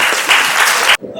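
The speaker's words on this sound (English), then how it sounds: "give a massive round of applause for our youth panelists" A short burst of audience applause for youth panelists at a Birmingham youth conference, loud and dense for about a second before cutting off sharply.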